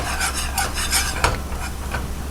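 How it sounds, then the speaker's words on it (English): A roux being stirred in a pot with a ladle spoon, giving repeated close scraping and bubbling strokes in a quick rhythm, with no voices. "Put 1 ladle spoon in. And it's going to bubble and stir."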